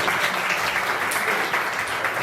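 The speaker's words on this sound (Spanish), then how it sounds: "Un fuerte aplauso para don Oscar Malagón" Audience applause at a conversation event on the history and artistic expressions of Yanga, a steady mass of clapping from a seated crowd, fairly close and even throughout.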